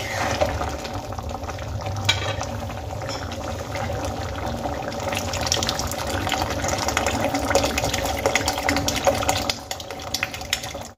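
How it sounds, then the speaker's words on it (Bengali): Water poured into a pot of spiced chana dal, a steady loud gushing and sizzling wash that runs close and continuous, tapering off at the end with no talking. "এবার এর মধ্যে দিয়ে দেব পরিমাণ মতো জল।"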